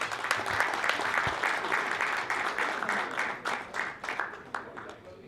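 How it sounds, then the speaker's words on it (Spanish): Members at a Rotary Club gathering in Buenos Aires applaud a speaker, a full round of many hands clapping that thins into scattered individual claps before fading. "Les pido un aplauso para él."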